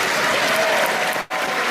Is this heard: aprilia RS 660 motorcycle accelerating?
no